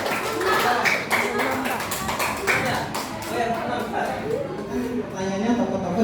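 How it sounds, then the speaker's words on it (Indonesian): Students clap in a classroom, a burst of uneven hand claps mixed with chatter and shuffling, with voices talking over it throughout. "Tepuk tangan untuk kelompok itu."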